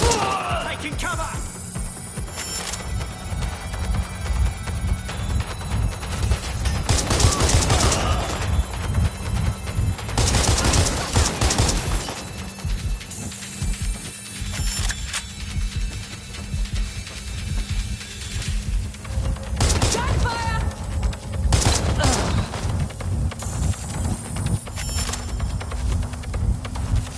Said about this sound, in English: This is a nightmare! They're shooting!